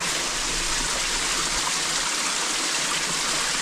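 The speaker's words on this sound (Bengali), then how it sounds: "এই যে পানির শব্দ" Water flows steadily along a steep, slippery hill trail in Thanchi, Bandarban, a continuous broadband rush that holds close and loud throughout with no voices.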